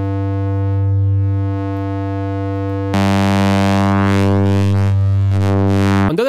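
A sustained sine-wave tone on the Altitude synthesizer with warp modulation holds steady, then its timbre suddenly brightens and grows buzzier and richer before cutting off, loud and alone.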